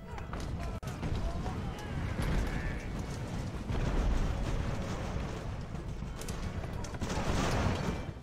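Age-of-sail musket volleys and cannon fire in Ultimate Admiral: Age of Sail during a Marine landing on Block Island, a dense, rumbling, continuous battle din with overlapping crackling shots, loud and close throughout.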